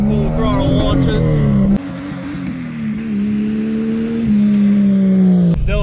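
A car engine running on vodka in place of gasoline roars loud and steady through a full-throttle launch, its pitch holding high and strained with small shifts, close up and alone.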